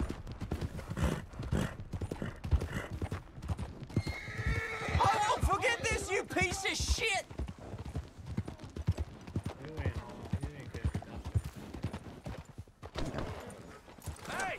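A horse gallops in the video game Red Dead Online, rapid rhythmic hoofbeats that continue throughout, with a loud whinny partway through and someone talking over the clatter.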